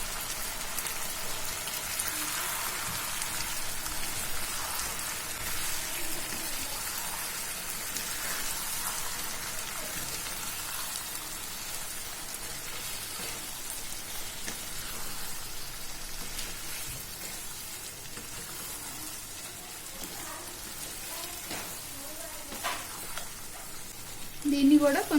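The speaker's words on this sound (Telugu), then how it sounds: "దీన్ని కూడా కొంతసేపు ఫ్రై చేసుకోవాలి." Masala paste for Chettinad chicken curry fries in oil in a pan, a continuous close sizzle and spatter like light rain that holds steady throughout, with a few louder clatters near the end.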